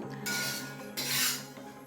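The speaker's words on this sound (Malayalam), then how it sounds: "അങ്ങനെ പൂരം വറുത്ത റെഡിയായി ഞാനത് അതിനൊരു പാത്രത്തിലേക്ക് മാറ്റുകയാണ്" Roasted pooram powder scraped from a pan into a bowl, giving two close raspy scraping strokes of utensil against metal, with no talk.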